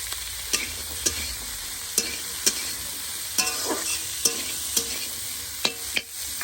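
Peas and carrots go into a hot pan for fried rice, setting off a steady sizzle. Sharp clacks of a spatula stirring and scraping the pan come at irregular intervals over the frying.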